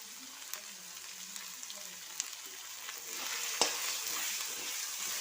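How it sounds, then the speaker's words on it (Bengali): Tomato and spice masala frying in a pan for a soybean and potato kosha, a low continuous sizzle that swells a little louder toward the end, with faint occasional spatula taps and no speech. "এখন আমি মশলাটা ভালো করে কষিয়ে নেব"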